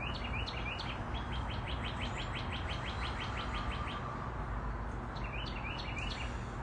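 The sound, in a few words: birds chirping outdoors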